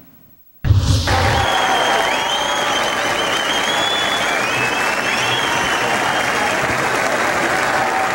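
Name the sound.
crowd applause in Buenos Aires, wind and rain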